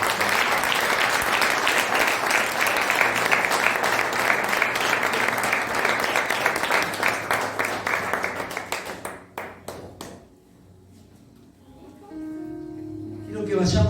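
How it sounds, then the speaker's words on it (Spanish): A church congregation breaks into sustained loud applause that fades out after about ten seconds, followed by a voice and a low tone. "Dale un aplauso al Señor."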